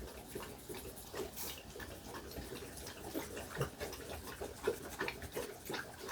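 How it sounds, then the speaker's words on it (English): Two dogs drink water: wet lapping and slurping at close range, a steady stream of small splashy licks with occasional louder gulps, no voices. "I have 2 dogs drinking water now."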